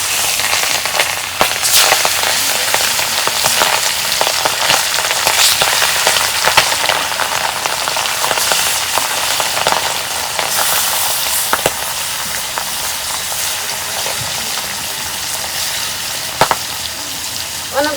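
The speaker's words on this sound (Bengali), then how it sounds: "কড়াইয়ের মধ্যে তেল দিয়ে দিই। এখন মাছ ভাজু।" Pangas fish pieces sizzling in hot oil in a wok, a steady, dense crackle and spatter running loud and close throughout with occasional sharper pops.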